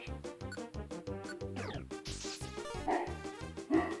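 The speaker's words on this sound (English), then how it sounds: "sorry about the dogs, but they'll bark and then stop" Several dogs bark in quick, repeated bursts, close by and loud, with some yipping overlapping throughout.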